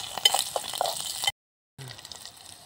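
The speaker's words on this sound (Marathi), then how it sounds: "त्याच्यामध्ये जिरं आणि मोहरी टाकून द्यायची. त्याच्यासोबतच कढीपत्ता, 2 हिरव्या मिरच्या उभ्या कापून घेतलेल्या आहेत मी" Cumin, mustard seeds, curry leaves and slit green chillies frying in hot oil for a tempering, a close crackling sizzle with small clinks of a stirring utensil, briefly cut off by a silent gap.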